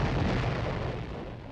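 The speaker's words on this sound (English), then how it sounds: "Cannon going boom, boom, boom. An explosion in a wall panel." A film sound effect of cannon fire and an explosion in a wall panel gives a dense, sustained rumbling roar, heavy and loud.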